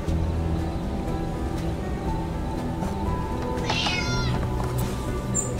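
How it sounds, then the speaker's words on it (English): A cat in the video game Dordogne gives a single distinct meow partway through, set against a steady ambient game soundscape with a low hum. "It's a kitty."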